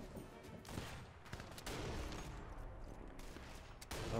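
Gunfire in the Sniper Elite 4 game, a muffled fusillade of scattered shots and bursts at mid distance, fairly quiet and irregular amid a rumbling battlefield bed.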